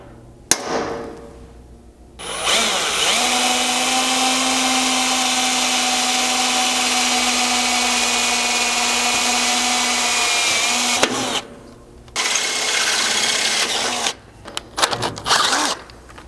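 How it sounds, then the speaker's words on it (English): A power drill with stepped-up bits bores holes in a Lexus LX 570 for a Blitz slider install, giving a loud, steady whining grind that runs for several seconds, stops, then starts again briefly. "stepping your way up with several drill bits to get to that size for the best result"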